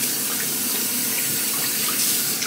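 Steady rush of water running from a tap into a sink, close and continuous with no pauses.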